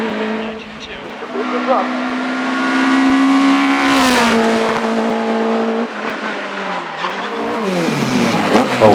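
The Mark 27 SG race car accelerates hard up the hill at the Shelsley Walsh British Hillclimb Championship, a loud rising engine howl with gear changes, rushing past close under a commentator's voice.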